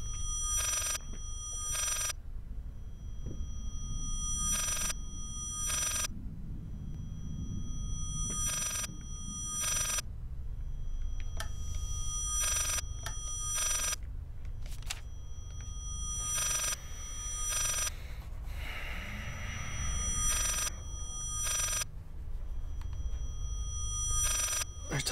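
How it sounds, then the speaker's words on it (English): A telephone rings in the horror video game Layers of Fear, giving repeated regular double bursts of bright, metallic bell ringing over a low, rumbling ambient drone, steady and fairly close throughout. "I hear a phone."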